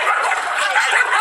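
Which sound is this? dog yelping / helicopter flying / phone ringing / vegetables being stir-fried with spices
dog yelping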